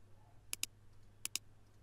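Two quick pairs of crisp computer mouse clicks sound close and faint over a low steady hum while removing a keyboard layout in Windows 10, with no speech.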